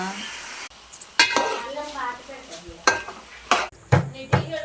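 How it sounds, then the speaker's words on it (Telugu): Ginger and garlic pounded by hand in a home kitchen without a small mortar, sharp irregular knocks and clanks of metal on a hard surface, close and fairly loud with brief pauses between strikes. "చిన్న రోలు లేదు మా ఇంట్లో, ఇట్లయితే నేను దంచుతున్నా."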